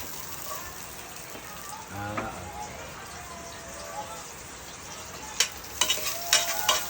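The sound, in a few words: garlic sautéing in a frying pan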